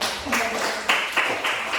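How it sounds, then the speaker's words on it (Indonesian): Pupils in an Indonesian primary school classroom give a classmate a brief round of applause, the clapping close and busy, with a few sharper accents. "Tepuk tangan kepada Anu."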